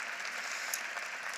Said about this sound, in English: So one more round of applause for this amazing woman